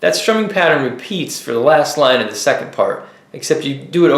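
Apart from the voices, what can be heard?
No everyday noises stand out.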